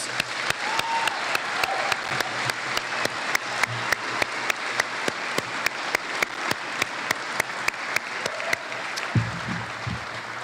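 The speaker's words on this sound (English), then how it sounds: "all 4 of them deserve a round of applause" Applause at a senior awards night, with one close, sharp, steady rhythmic clapper standing out over a softer crowd and a brief voice near the end.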